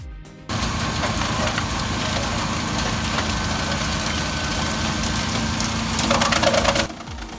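A wood chipper shreds a tree, starting abruptly in a loud, steady mechanical drone with a tractor engine running, then a rougher burst of grinding near the end before it stops.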